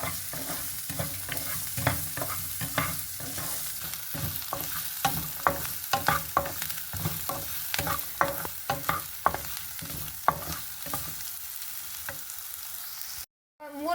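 Ingredients roasting in a pan for a savoury oats recipe, with a steady sizzle and repeated scraping stir strokes close by throughout, a brief gap near the end, and no talking.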